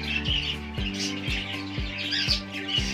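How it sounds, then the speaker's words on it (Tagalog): Pet cockatiels chirp while being fed, with bright repeated calls over a few soft, regular thuds, fairly close and unaccompanied by talk. "So mga kaibon, yan po ang ating alagang kakatail."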